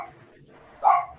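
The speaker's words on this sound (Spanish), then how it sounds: "Están ladrando mis perros" A dog at home gives a single short bark, somewhat distant and muffled, standing out against an otherwise quiet room.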